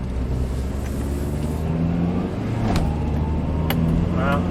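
A 2003 Honda Element with a fault accelerates on the road, a low engine drone rising steadily in pitch with some road rumble, heard from inside and fairly loud, with no talk.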